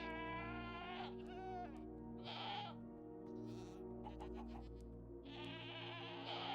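Screaming goats in Minecraft let out several bleating cries, some long and wavering, over low steady background game hum with no talk.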